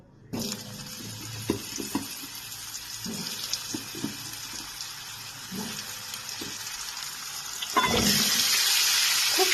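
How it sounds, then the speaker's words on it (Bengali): Pumpkin pieces tipped into hot oil with tempering spices for a fish-head pumpkin ghonto, a loud sizzle that sets in and continues with scattered clatter, swelling louder near the end. "এবার আমি কুমড়োটাকে তেলের মধ্যে দিয়ে দেবো"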